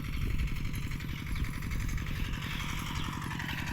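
A tractor engine ploughing a field runs with a rapid, steady chugging beat, loud and close, its pitch barely rising as the throttle is held.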